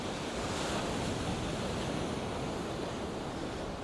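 Choppy sea waves at high tide by Southwold pier on the Suffolk coast make a continuous, loud, broadband wash and roar, mixed with buffeting wind noise on the microphone, with no voices.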